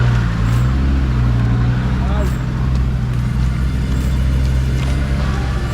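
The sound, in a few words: 4x4 off-road vehicle driving over a rock while green laning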